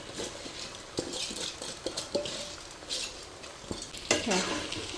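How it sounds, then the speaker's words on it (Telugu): Rice tipped into frying onions in a pan for bhagara rice and stirred, quiet sizzle under a series of spoon scrapes and metal clinks against the vessel, no speech. "మనము రైస్ అన్నది దీంట్లో వేసుకుంటాం."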